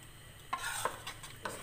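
Chicken korma stir-frying in a pan, a soft steady sizzle broken by a few scraping stirs of a spoon against the metal, close and fairly quiet with no talking.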